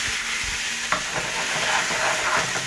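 Beef sausages browning in a hot pan, a steady close sizzle with a sharp spit near the middle and light scraping as they are moved around.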